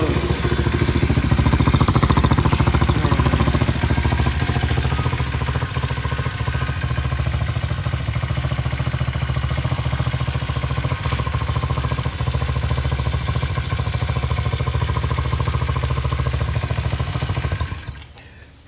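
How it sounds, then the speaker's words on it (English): A Chinese dirt bike engine running at a steady idle, loud and close, a continuous rattling mechanical drone that holds evenly before cutting off at the very end. "we just start the bike and we let the bike run"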